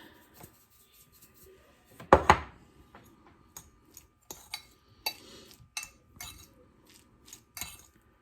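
Butter stirred into a pan with a utensil: scattered sharp clinks and scrapes of metal against the pan, one louder clatter early on, with quieter gaps between strokes.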